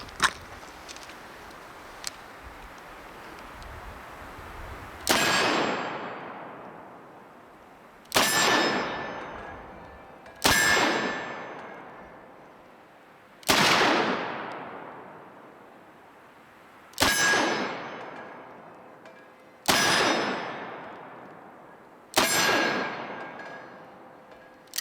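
Seven loud, sharp revolver shots from a Smith & Wesson 686 Plus seven-shot .357 Magnum, spaced a few seconds apart, each with a long ringing decay and no talking.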